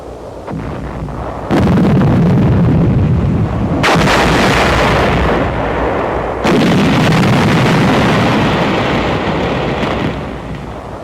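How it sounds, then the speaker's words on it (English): Battle explosions from an improvised charge packed in a five-gallon gasoline can, set to blast an entrenched enemy position in January 1945 Pacific combat. Loud, sustained roaring blasts come in about three heavy surges, each rolling into a long rumble with no voices. "An explosive charge in a 5-gallon gasoline can is improvised to blast an enemy position."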